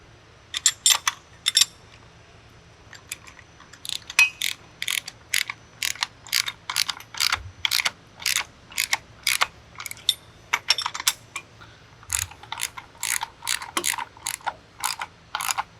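A pipe clamp on a Geoprobe DM450 drill rig is tightened with a series of sharp, close ratcheting clicks in quick bursts, with brief pauses between strokes over a quiet background.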